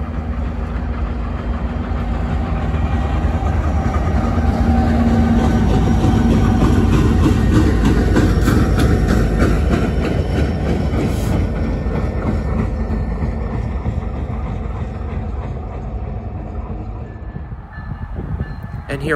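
Loud, continuous rumble of a freight train with two locomotives on the same end rolling past nearby, with engine drone and rhythmic wheel clatter throughout.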